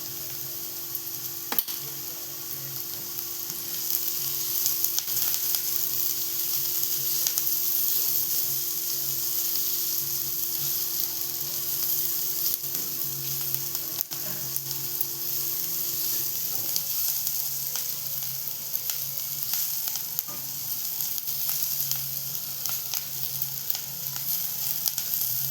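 Turmeric and asafoetida frying in a pan, a continuous close sizzle with faint crackles and occasional clicks, holding steady for the whole stretch without speech.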